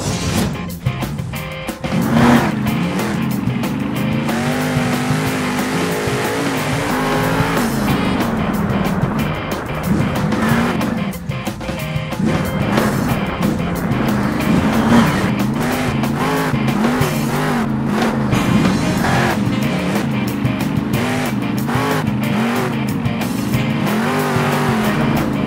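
In the Monster Jam Steel Titans video game, a monster truck's engine roars loudly and continuously and rises and falls in pitch, with repeated tire squeals and skids as it brakes.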